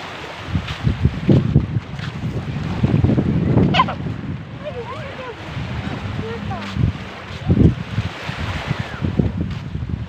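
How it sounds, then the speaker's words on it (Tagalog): Gusty wind on a beach rushes and buffets the microphone in uneven bursts, with people talking intermittently underneath. "Ito medyo malakas ang hangin."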